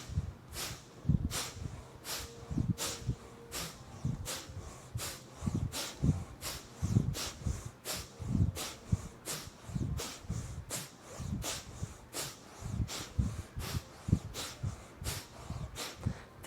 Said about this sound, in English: so a rapid exhale through the nose with a passive inhale.